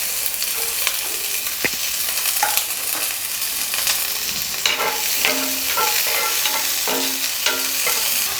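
Chopped onion from one large onion frying in two spoons of oil in a pan, stirred steadily, with a constant sizzle and repeated scraping strokes of the spoon against the pan.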